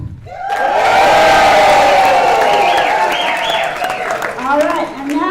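An audience at an amateur musical variety revue hoots, hollers, whistles and claps in a loud burst, rising whistles and whoops riding over dense clapping and cheering.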